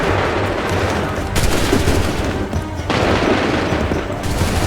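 Musket volley gunfire in the video game Assassin's Creed 3, a dense, loud, continuous crackle of overlapping shots and booms with brief dips between waves of fire.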